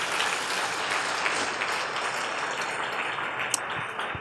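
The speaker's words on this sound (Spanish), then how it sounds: "Dele ese aplauso al Señor." A church congregation applauds during a sermon, a dense, sustained wash of clapping from many hands that fills the room for a few seconds without a break.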